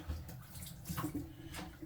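Water spilling over the rim of a container holding meat being cleaned in a water and vinegar solution, a soft, uneven splashing and trickling, faint and close.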